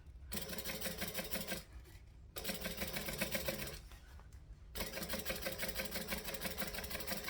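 A sewing machine top stitches a curved seam at a measured pace, a steady rapid stitching hum in three runs separated by short pauses, close up.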